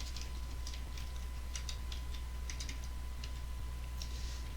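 Light, scattered keystrokes tap on a computer keyboard as an SQL query is written, faint against a steady hum, with no voices.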